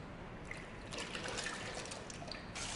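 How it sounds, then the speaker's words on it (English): Milk pours into egg yolks in a soft, close trickle that swells and thins over a few seconds, quiet and without talking. "Again, I add a little bit of milk to the yolks."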